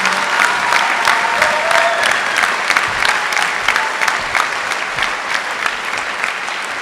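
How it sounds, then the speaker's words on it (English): A crowd applauds steadily at a youth academy graduation ceremony in Kalaeloa, Hawaii, a dense patter of clapping hands that holds at a loud, even level throughout. "Let's give him a round of applause."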